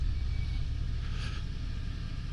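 2023 Harley-Davidson Fat Boy 114 being ridden, a low steady engine rumble with wind rush at moderate loudness, continuous through the short stretch.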